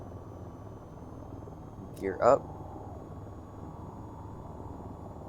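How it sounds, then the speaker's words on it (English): Steady engine drone and rotor hum of an AH-94 attack helicopter at takeoff in the VTOL VR flight game, continuous under a brief spoken cockpit command. "Now, flying a helicopter is a little difficult."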